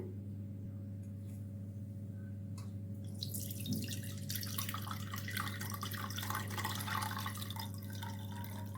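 Dissolved tamarind water being strained for rasam. After a few seconds it becomes a steady trickling, splashing pour over a constant low hum, close by, with no talking.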